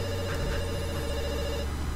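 A telephone rings in the video game Dr. Langeskov, The Tiger and The Terribly Cursed Emerald, a steady repeating electronic ring running throughout over a low background hum, with no one talking.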